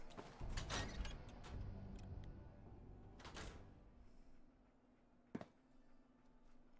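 A door in the Fallout 4 video game slides and clanks with a few mechanical thuds and creaks, fairly close, followed by quieter room tone and one sharp knock near the end.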